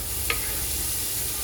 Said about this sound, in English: we're going to let that alcohol burn out, boil out. Scraping up all those good bits.